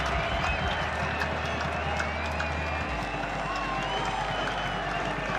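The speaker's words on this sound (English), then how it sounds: "hold your breath for this partisan crowd as they roar on Rufus Dirksen and the Paul Roos first 15" A partisan schoolboy rugby crowd roars on the Paul Roos first XV at an interschools match against Grey College, a steady dense wall of cheering and applause that holds loud throughout.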